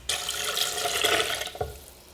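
Water poured from a tap or jug into a blender for coconut milk, with 1 cup of coconut cream and 3 cups of water; a steady close splashing stream for about a second and a half, then a brief clunk.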